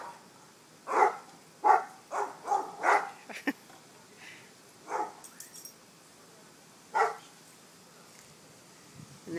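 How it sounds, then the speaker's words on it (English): Several dogs bark in short bursts at a moderate distance, a quick run of barks followed by scattered single ones and pauses. "talking to the neighbor dogs"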